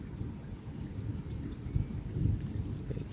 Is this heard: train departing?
no